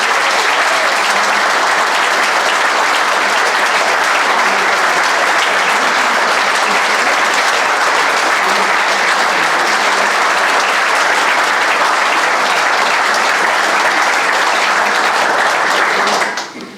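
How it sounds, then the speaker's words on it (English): A large audience at the DUP 2024 election campaign launch applauds steadily and loudly for the whole stretch, a dense unbroken roar of clapping that fades out sharply at the very end. "Give them a round of applause."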